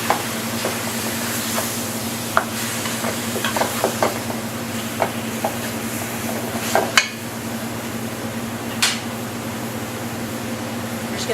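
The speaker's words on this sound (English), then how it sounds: "And give it another stir" Beef stew for a Vietnamese dish is stirred in a pot, with scattered sharp utensil knocks and scrapes over a steady low background hum.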